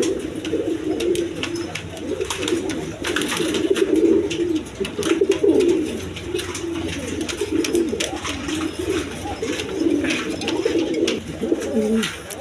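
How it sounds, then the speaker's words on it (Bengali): A pair of pigeons coo nearby in deep, throaty, rolling calls that repeat almost continuously, with faint background noise and no clear talk. "দর্শক এখানে এক পেয়ার কবুতর আছে দেখেন"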